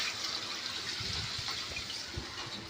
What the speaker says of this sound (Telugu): ముందుగా మటన్ ఉడికించుకున్న తర్వాత ఉన్న వాటర్ని వేసుకుని